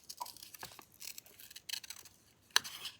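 Scissors snip through paper for a Hobonichi Techo A5 journal, making several quiet, close cuts and a faint rustle.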